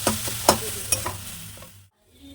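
Potatoes frying in a pan, a sizzling hiss broken by a few sharp scraping stirs, then cutting out abruptly near the end.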